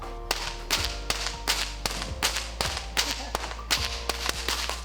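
A stock whip is cracked about a dozen times in quick, steady succession, each sharp, loud snap standing alone against a low background hum.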